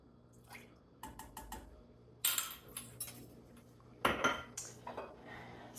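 Rice wine vinegar being spooned into homemade teriyaki sauce: a series of light metal spoon clinks against dishes, then louder clatters and dripping liquid splashes, close by in a quiet kitchen.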